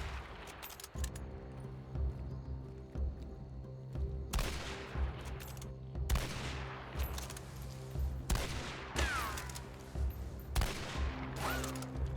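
Gunfire in the video game Hunt: Showdown: several loud, sharp shots in irregular bursts, with a low, steady ambient hum running beneath.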